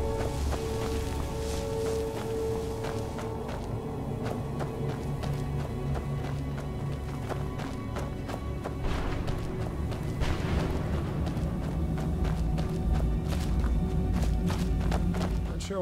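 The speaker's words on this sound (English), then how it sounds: "there's the horse" Horse hooves clip-clop steadily in Skyrim's Soul Cairn, a rhythmic run of close, muffled thuds continuing throughout beneath a droning, atmospheric game soundscape.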